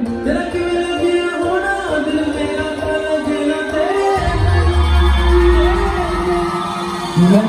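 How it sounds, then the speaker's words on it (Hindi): A concert crowd at a university music fest cheering, whooping and shouting to greet a singer's entrance, a loud sustained roar with music and a deep bass swell rising midway. "आप सबकी जोरदार तालियों और शोर में"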